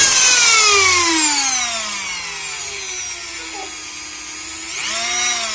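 A Dremel 4000 rotary tool whines steadily at 35,000 rpm, its pitch gliding down as it slows, then briefly spinning back up near the end; no talking.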